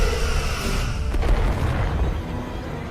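Starship weapons fire and explosions from the Star Trek: Resurgence video game, with heavy booming blasts and deep rumbling impacts, one sharper burst near the middle.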